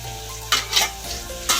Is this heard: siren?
no